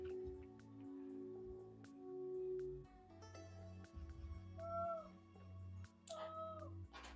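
A pet cat gives a couple of small, thin, rising meows, mid-distance and fairly soft, over a steady background hum with a few faint clicks.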